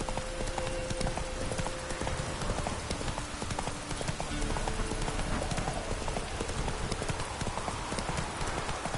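The horse Roach from The Witcher 3 gallops in a steady, rapid clip-clop of hooves, continuous and fairly quiet against a dense game soundscape.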